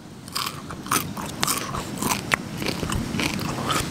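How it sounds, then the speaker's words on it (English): A piece of crackling roast pork from a camp rotisserie is bitten and chewed up close, giving a steady run of crisp crunches and crackles with no talk. "Listen to the crunch."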